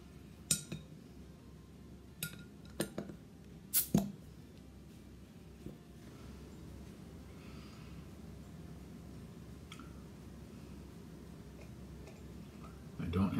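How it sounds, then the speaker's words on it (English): Saison Dupont, a 6.5% Belgian beer, goes into a Duvel glass: a few sharp glass clinks come first, then a long, steady, soft pour with fizzing, while someone talks. "I'm pouring it into a Duvel glass"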